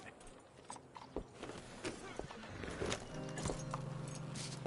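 Horse hooves clop at a walking pace in the video game Red Dead Redemption, soft irregular steps on the ground with faint ambient sound and a low steady tone joining near the end.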